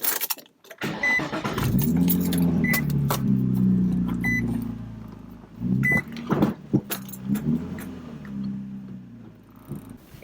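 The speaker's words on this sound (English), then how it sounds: "Next, start the vehicle and roll it off the ramps. Only let it run for a few seconds." A Nissan 350Z or G35 being started after an oil change, keys jingle, then the engine cranks and settles into a close, steady idle with more jangling and knocks over it before it fades.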